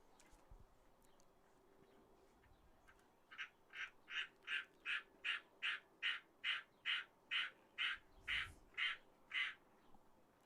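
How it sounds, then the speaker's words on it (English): Outside a baseball game, birds give a rhythmic run of about fifteen harsh, evenly spaced squawks, fairly clear against a faint ambient crowd background. "some birds squawking"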